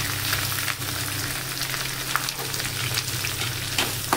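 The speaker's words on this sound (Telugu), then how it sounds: "కొంచెం వేయించుకోవాలన్నమాట చూడండి ఉల్లిపాయ ముక్కలు వేగిపోయినాయి" Onions, curry leaves and green chilies frying in hot oil, a loud, continuous close-up sizzle and crackle with occasional spatula scrapes and a low hum underneath, no voices.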